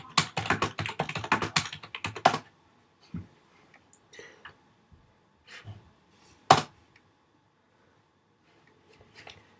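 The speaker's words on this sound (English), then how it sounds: "go to the Apple website and type FaceTime for Mac" Typing on a computer keyboard: a dense burst of rapid key clicks at the start, then sparse single taps and a sharp keystroke separated by near silence.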